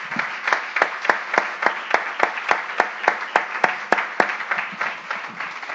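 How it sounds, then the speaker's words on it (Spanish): Rhythmic clapping in a church congregation, steady unison claps at a brisk regular beat over a bed of scattered hand claps, moderately loud and close throughout with no talking. "Démosle un aplauso al Señor."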